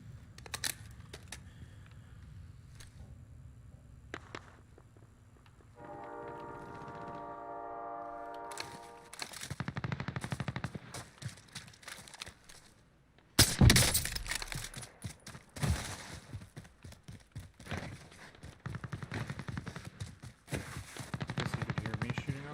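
Gunfire from the video game Call of Duty: Warzone, with rapid machine-gun bursts and sharp cracks over game noise, a loud impact in the middle, then repeated close volleys.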